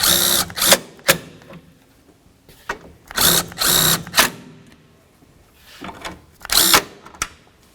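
Power drill snugging coarse-thread bolts on a coolant reservoir install on a 2013-2018 Dodge Ram 1500, heard as several separate whirring bursts of about a second each, close and fairly loud, with quiet gaps between.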